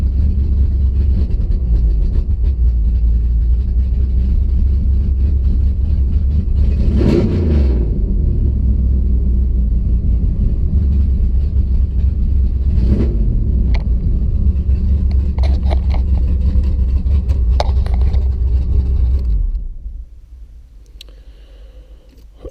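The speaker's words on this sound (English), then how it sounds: "I'm going to press the throttle." A car engine fitted with Holley Sniper fuel injection and suffering air-fuel ratio issues idles with a loud, deep rumble, then gets two sharp revs on the throttle before cutting off near the end.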